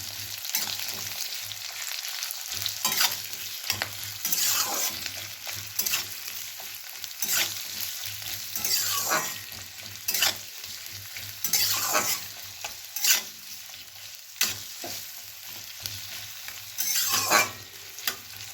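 Onion and capsicum stir-fry in a pan, with a steady sizzle and repeated bursts of spatula stirring and scraping at an uneven rhythm, close up and with no talking.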